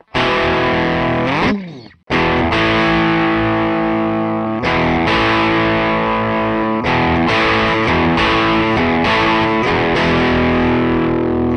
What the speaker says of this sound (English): This next one is overdrive. And you'll definitely hear the overdrive on that.